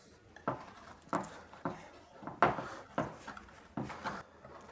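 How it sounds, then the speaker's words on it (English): A metal spatula works around the edges of seven-layer bars in a baking tray, making six separate scraping, rubbing strokes at a roughly even pace, close and fairly quiet, with no talking. "So I'm going to try loosening it from the sides a bit. And this is just a metal spatula."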